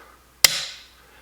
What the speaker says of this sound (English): now we can do a quick test of the trigger function